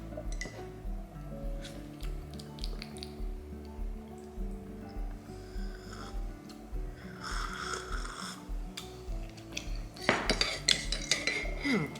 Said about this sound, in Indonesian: We put a spoonful and then we mix.